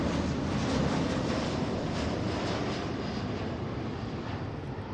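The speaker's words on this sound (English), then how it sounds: "so we have a 737 here. It's landing on the left side" A Boeing 737 narrow-body jet landing at Seattle airport, heard as a loud, steady roar of engine noise holding for several seconds and then easing slightly.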